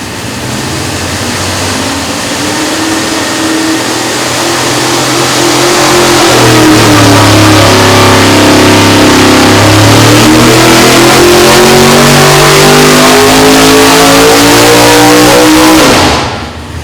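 A 1000+ horsepower big block engine with a carb spacer, run on a dyno, roars loud and close, its pitch climbing steadily through a long full-throttle pull before cutting off sharply at the end.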